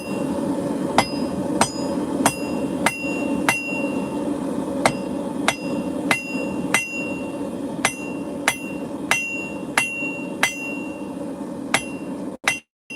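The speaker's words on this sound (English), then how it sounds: "sharp hits with the hammer" Sharp metallic hammer strikes on hot steel while hand-forging a hammer drift, ringing out at a steady, regular pace, each a bright clang over a low background rumble, ending abruptly.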